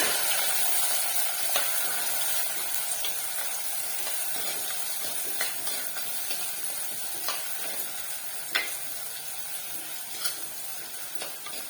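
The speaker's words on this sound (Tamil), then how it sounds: "வெங்காயம் நல்லா வதங்கணும்." Small and large onions sizzle steadily in a pan as the base for a chicken curry, giving a constant close frying hiss with occasional soft clicks of stirring.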